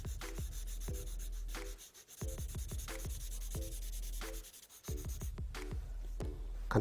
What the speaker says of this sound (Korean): 그림자 차필로 문질러 줄게요.